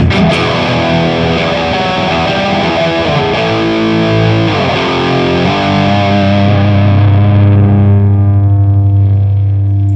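Loud, heavily overdriven electric guitar rings out in thick sustained chords, ending on a low, droning note.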